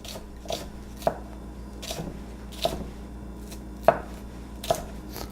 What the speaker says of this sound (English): I get a lot of requests to know how to do a julienne cut for the onion